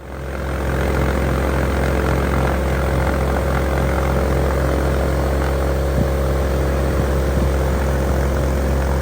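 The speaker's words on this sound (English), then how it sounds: "We ran the engine for a while, making sure that the cooling system was running good." A Viking aircraft engine running on a ground test, with a loud, steady propeller drone that builds up in the first second and then holds constant and close.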